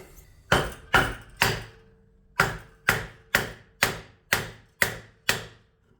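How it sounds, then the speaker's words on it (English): Close, sharp taps on an aftermarket Akrapovic-style exhaust being fitted to a 2014 BMW S1000R, three strikes, a pause, then seven more in a steady rhythm, each with a brief ringing decay. "You might have to give it a little love tap to get on."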